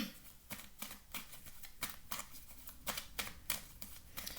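Tarot cards being handled and laid down on a table, a soft, close run of quick papery slaps and flicks repeating at an uneven rhythm, faint and with no talk.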